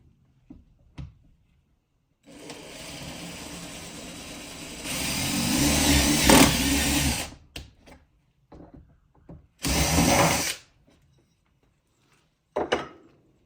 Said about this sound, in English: So now I'm going to pre-drill.